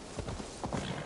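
Horse hooves clip-clop in quick uneven steps on a mount in Assassin's Creed Valhalla, moderately loud and close, with no other sound standing out.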